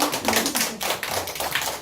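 A class gives a big round of applause at the end of a lesson, many hands clapping in a close, steady, fairly loud burst.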